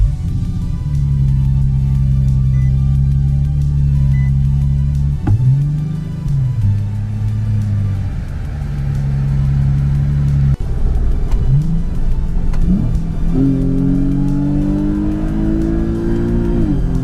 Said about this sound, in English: This might be my last drive in the Z.